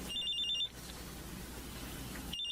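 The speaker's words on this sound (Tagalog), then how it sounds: "May tumatawag sa cellphone ko." A cellphone rings with an incoming call, a bright repeating ringtone that sounds at the start, cuts out, then returns at the end over a soft room hiss.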